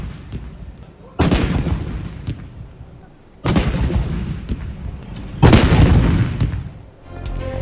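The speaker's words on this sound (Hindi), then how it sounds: "वफाकी दारुल हुकूमत में 31 और सूबाई दारुल हुकूमतों में 21 तोपों की सलामी से दिन का आगाज हुआ।" Ceremonial artillery guns fire a salute for Eid Milad-un-Nabi, three heavy booming blasts spaced a couple of seconds apart, each rolling out into a long echoing decay outdoors.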